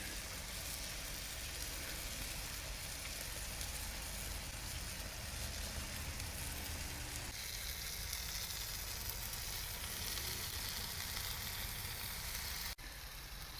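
Bacon-wrapped pork tenderloin sizzles steadily as it cooks under a glaze, a continuous crackling hiss with no break and no talk, dipping briefly near the end.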